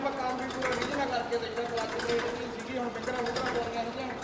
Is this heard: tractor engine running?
yes